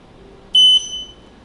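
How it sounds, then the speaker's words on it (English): Journey Air lightweight travel powerchair reverse warning when backing up: a single short, high electronic beep, close and clear over a quiet background. "there is a reverse beep that I'll show you how to get rid of"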